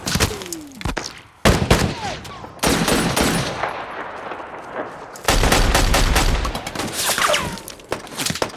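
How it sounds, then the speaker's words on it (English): A film gun battle from Lone Survivor erupts in loud, dense gunfire, with rapid bursts, sharp cracks and heavy impacts separated by brief gaps, intense and close throughout. "When the gun battle does break out,"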